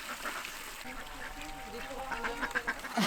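Hen at a rescue animal farm giving short, honking clucks that grow busier toward the end, over steady background noise.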